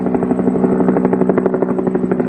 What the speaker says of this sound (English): Oh, it's our helicopter.